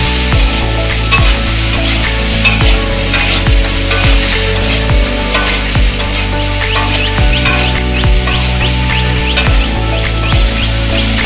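Bitter gourd frying in a pan with turmeric and salt gives a steady loud sizzle, overlaid by a repeating low tonal pattern like background music, with no talk.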